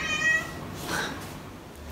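A cat meows twice in quick succession, close and fairly clear, in a home during a move to a new apartment.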